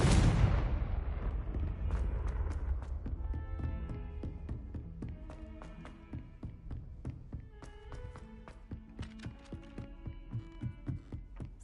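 A heavy Confringo spell blast in the Hogwarts video game booms loud at the start and decays, followed by a string of lighter crackling impacts and chiming magical effects tapping out a quick, uneven rhythm.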